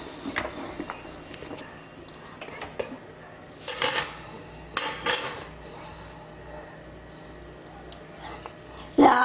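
Roasted moong dal (split green gram) tipped out of a pan, heard as a run of rattling clatter and scraping against metal with a few louder bursts, close by and moderately loud.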